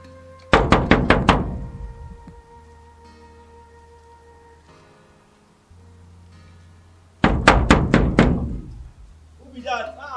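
Two loud, close bursts of about five rapid bangs each on a gate outside a big house, separated by a quiet pause, with a voice speaking briefly at the end.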